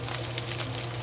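Egg fried rice frying in a pan, a steady soft sizzle with faint crackles running evenly throughout, close and fairly quiet with no talking.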